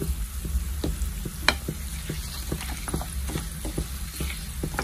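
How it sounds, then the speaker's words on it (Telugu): Onion, curry leaves, garlic and a pinch of asafoetida frying in oil for a grated raw mango chutney, a steady close sizzle broken by soft, irregular stirring taps, with no voices. "వెల్లుల్లి కాస్త కలర్ మారే వరకు వేయించుకుంటే సరిపోతుంది"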